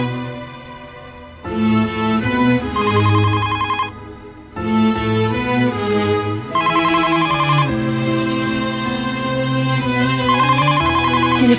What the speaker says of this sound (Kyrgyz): Телефонго жооп бербейсизби?